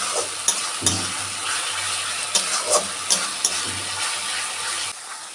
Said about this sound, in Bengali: তখন মশলাটা কষিয়ে নিই